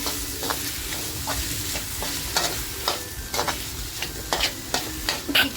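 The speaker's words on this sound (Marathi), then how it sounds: "आता हे वांग आहे ते मसाल्यामध्ये आपल्याला छान असं फ्राय करून घ्यायचं आहे" Brinjal frying in a spicy small-prawn (karandi) masala, a low continuous sizzle broken by repeated scraping and clattering stirs of a spoon in the pan, close and moderately loud, with no voices.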